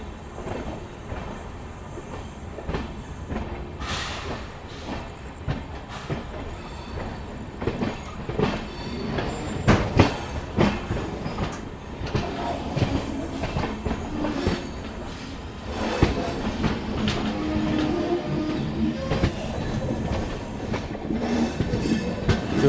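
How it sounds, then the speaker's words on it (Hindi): The Radhikapur Weekly Express, an Indian passenger train, pulls away nearby with loud continuous rumbling, rhythmic wheel clatter over rail joints and occasional squeals, without speech. "इसको भी सिग्नल मिल चुका है, तो ये भी फ़िलहाल चलना शुरू कर चुकी है राधिकापुर वीकली एक्सप्रेस"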